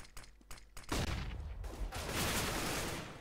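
Gunfire in a Counter-Strike ESL Summer Relegation match on the Nuke map, a few sharp isolated shots followed by a dense, sustained burst of rapid firing.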